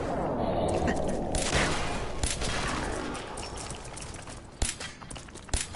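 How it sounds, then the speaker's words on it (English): Rapid bursts of gunfire in Fallout 4 crack and rattle, a sustained volley at first, then isolated sharp shots, with game ambience between them. "Just like calmly shooting the crap out of them"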